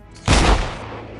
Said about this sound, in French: un coup de feu dans le dos interrompt son flot de pensées positives